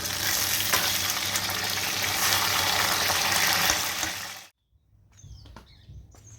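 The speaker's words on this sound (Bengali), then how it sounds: "মাছ ভাজা হচ্ছে" Fish sizzles loudly in hot oil in a pan, a steady dense crackle for about four and a half seconds, then cuts off abruptly, leaving faint kitchen clatter and a few soft sounds.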